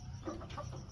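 Golden Boy Sweater rooster clucking softly at close range over steady farmyard background noise, a few short low calls running through the second.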